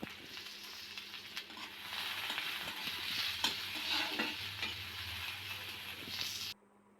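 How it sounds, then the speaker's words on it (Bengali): Chopped garlic and onion frying in hot oil, used earlier for dried chilies, while being stirred, giving a steady close sizzle with scraping stir strokes throughout before an abrupt cutoff near the end. "এবারে রসুন কুচি ও পেঁয়াজ কুচিটাকেও নেড়ে চেড়ে লাল লাল করে ভেজে"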